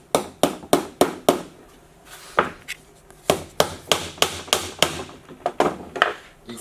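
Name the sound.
hammering a traditional nail through a three-hole bracket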